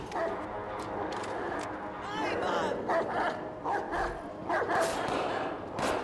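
A dog barks and yips in Watch Dogs 2, a few sharp calls scattered among game noise, with a voice talking over parts of it.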